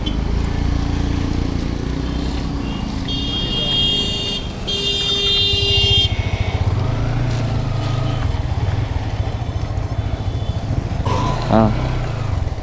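A modified Yamaha R15 V3 motorcycle, fitted with a Dominar-style handlebar, revs and pulls away, its low engine drone steady under nearby voices, with a brief horn-like tone near the end.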